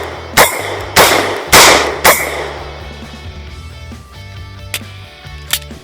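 A Walther PDP F-Series 3.5-inch pistol loaded with a Canik TP9 SFX magazine fires four loud, sharp shots about half a second apart, each ringing out, followed by a lingering tail and a couple of faint later clicks.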